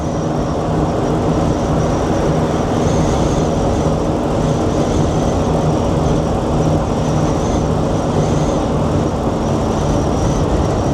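A 1972 Ford Econoline Custom 200 pop-top camper van on a test drive, heard as an even, continuous engine and road drone with no break and no talking.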